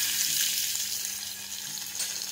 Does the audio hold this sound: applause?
no